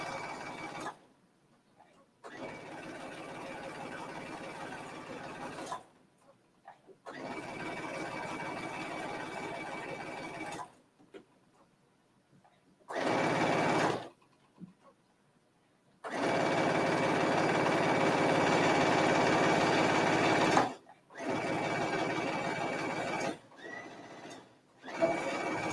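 A sewing machine stitches two rows along an elastic hem on a sweater, running in several loud bursts of steady whirring separated by short pauses, with no voices present.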